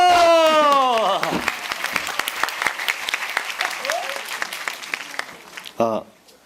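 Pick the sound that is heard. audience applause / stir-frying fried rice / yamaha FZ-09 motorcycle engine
audience applause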